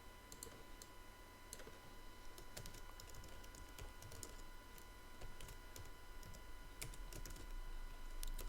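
Quiet, close keystrokes on a computer keyboard tap out text in irregular bursts and single clicks over a low room hum, with no one speaking.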